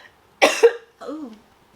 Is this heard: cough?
yes